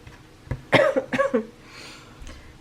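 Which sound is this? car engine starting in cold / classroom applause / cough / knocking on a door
cough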